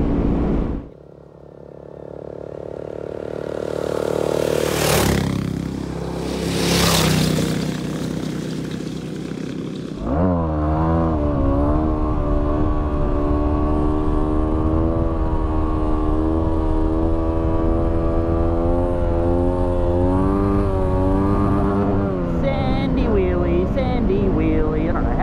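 Motorcycle engine revving hard and accelerating through soft desert sand on an outback track, a steady loud drone with rising and falling pitch that runs continuously for most of the stretch and stays close.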